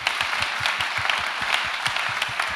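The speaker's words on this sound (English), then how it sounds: "Big applause to those startups" Applause from an audience at an innovation program's closing ceremony, a dense, steady patter of many hands clapping at close range for the whole stretch with no talk over it.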